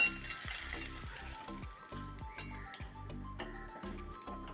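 Hot oil poured over a seer fish curry, giving a steady crackling sizzle with dense, rapid pops that stays fairly loud for several seconds, no voices.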